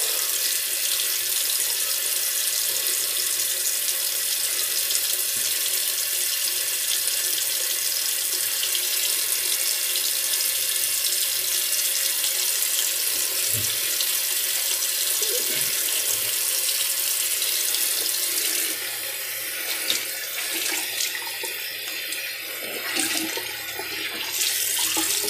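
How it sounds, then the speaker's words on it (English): Cold water pours from a tap into a sink for a rinse after shaving, a long steady close rushing stream, shifting in texture near the end as something passes through the flow, with no talking. "Now the cold water rinse."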